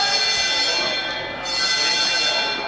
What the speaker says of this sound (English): this kind of sounds like the penalty bell